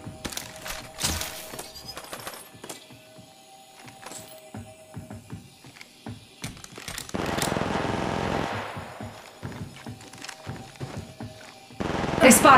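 Gunfire in the mobile shooter Apex Legends Mobile comes as repeated sharp shots and rapid automatic bursts. Quieter pauses and footstep-like clatter fall between them, and there are louder sustained volleys mid-clip and at the end.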